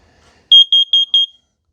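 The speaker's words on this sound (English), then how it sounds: "They both do 4 quick beeps when you get an alarm." Four quick, shrill electronic test beeps from a carbon monoxide detector sound close and loud in a steady rhythm, otherwise near silence.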